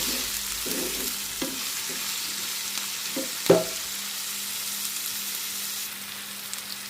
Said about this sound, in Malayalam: ഇനി നമുക്ക് നമ്മൾ അരിഞ്ഞു വെച്ചിരിക്കുന്നതായ ക്യാപ്സിക്കം നമുക്ക് ഇട്ട് കൊടുക്കാം